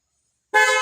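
A car horn, switched on through a domino switch, gives a single loud, close toot that starts abruptly after half a second of silence and holds steady to the end.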